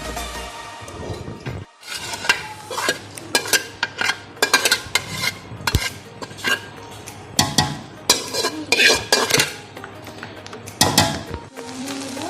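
A spatula mixes rice and spices in a metal pan for Chinese fried rice. It makes repeated clanking scrapes and clinks in irregular bursts, loud and close, with short pauses.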